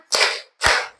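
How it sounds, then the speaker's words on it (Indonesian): Two sharp hand claps during a group ice-breaking game, close and loud, evenly spaced about half a second apart with silence between. "Buka tutup, bertepuk tangan."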